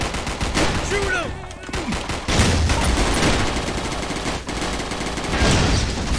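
Rapid gunfire in the zombie shooter game Zombie Panic Source, loud bursts of automatic and repeated shots in dense clusters, with brief voices in between.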